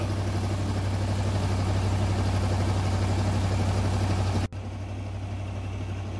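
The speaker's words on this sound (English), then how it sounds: "Allow the unit to run for about a couple of minutes to kind of warm up." An Amtex Stack 4047 truck-mounted carpet cleaning unit idles while warming up, a steady low engine hum with a constant droning tone that drops abruptly near the end to a quieter, thinner running sound.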